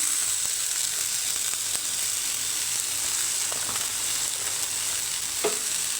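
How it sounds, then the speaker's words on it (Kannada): Turmeric and garam masala frying on a low flame for a ridge gourd gravy give off a steady, soft hiss of sizzling, with a few faint stirring clicks and no voices. "ಊರಿನ ಲೋ ಫ್ಲೇಮಲ್ಲಿ ಇಟ್ಕೊಂಡು ಹಸಿ ಸ್ಮೆಲ್ ಹೋಗೋವರೆಗೂ ಒಂದು ಸ್ವಲ್ಪ ಚೆನ್ನಾಗಿ ಬಾಡಿಸ್ಕೋಬೇಕು"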